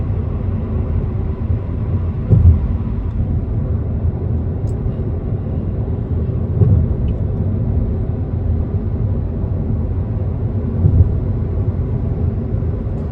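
Changan Eado cruising along a quiet road in Riyadh early in the morning, a steady low rumble of engine and road noise inside the car with a few soft bumps, no talk.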